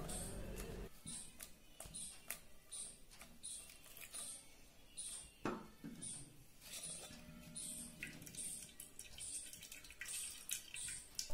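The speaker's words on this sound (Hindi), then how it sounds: "और ऊपर से हम इसमें डालेंगे ठंडा पानी।" Cold water is poured over an almond and poppy seed paste held in a strainer over a vessel, giving a steady close splashing and trickling sound with scattered light clinks and taps.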